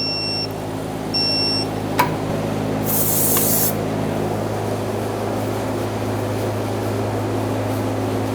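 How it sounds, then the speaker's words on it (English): Aerosol parts cleaner sprayed in one short hissing burst to wipe oil from around the drain plug under a 2014-2018 Chevrolet Silverado 1500, set against a steady mechanical hum with a few faint beeps and a sharp click before it. "I'm going to use some parts cleaner and clean up the area of any oil."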